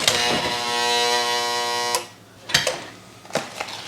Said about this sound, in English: It's a heat sealer.